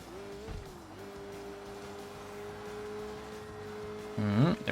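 A large car passing through traffic in the video game Sleeping Dogs, its steady engine drone holding throughout, with a rising rev and brief tire squeal near the end.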